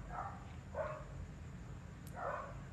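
Faint, muffled dog barks in the background, three separate short bursts spaced across a quiet room tone, with no voices over them.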